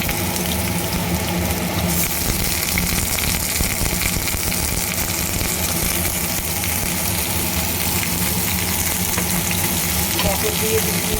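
Pointed gourd pieces go into hot oil with nigella seeds and fry with a steady, dense sizzle and crackle that fills the clip, loud and close, with occasional stirring.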